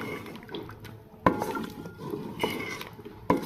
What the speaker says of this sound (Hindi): अब हम दही को अच्छे से इसमें मिक्स कर लेंगे।